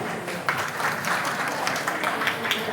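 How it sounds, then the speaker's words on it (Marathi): An audience at a women's wellness session claps, a moderate, continuous spatter of many hands that swells slightly toward the end. "त्यांच्यासाठी टाळ्या वाजवा"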